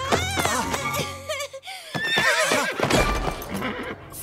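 A horse in a Playmobil cartoon gives a loud, close whinny with pitch sweeping up and down, then more neighs and snorts follow with a hint of hooves, all without speech.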